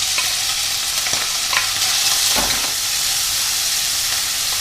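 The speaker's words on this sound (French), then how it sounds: "je vais commencer par mettre mes lardons" Lardons frying over high heat in a very hot wok with sunflower oil, a loud, continuous sizzle with occasional scraping stirs and no talking.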